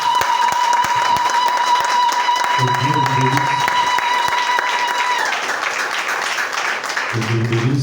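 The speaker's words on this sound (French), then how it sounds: "Donne une forte acclamation au Seigneur." Church congregation clapping and cheering in loud, dense applause that runs throughout, with someone speaking over it near the start and end.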